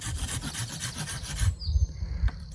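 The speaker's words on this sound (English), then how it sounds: "So with a very sharp silky saw, we are able to do it." A sharp Silky pruning saw cuts through garden maple stems in quick rhythmic rasping strokes, close and steady, then stops, leaving a few soft knocks and faint birdsong.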